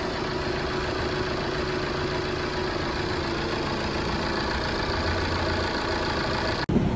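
A 2.0 CDTI diesel engine in an Opel Zafira idles steadily after a restart, a continuous close mechanical rumble with no talk, ending in a brief dropout at the very end.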